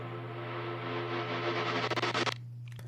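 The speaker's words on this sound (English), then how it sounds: "this is actually the same lead sound, and this is just being drenched in the reverb, and I recorded it and just reversed it" Synth lead drenched in reverb and played reversed, a dense hazy wash swelling over a low drone, breaking into fluttering pulses before cutting off abruptly into a faint tail.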